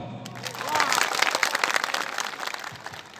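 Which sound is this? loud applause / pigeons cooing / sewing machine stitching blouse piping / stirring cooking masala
loud applause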